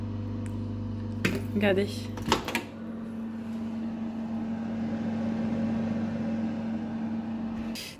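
A microwave oven hums steadily while cooking a mug recipe for one minute. After about two seconds there are clicks as it stops, a voice speaks briefly, and a low hum lingers afterward.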